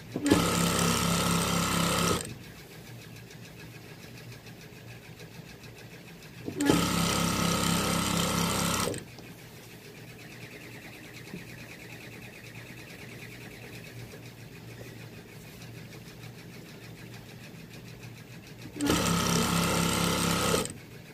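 An industrial sewing machine stitching T-shirt quilt strips runs in three loud, steady bursts of rapid mechanical whirring, each a few seconds long, separated by quieter pauses.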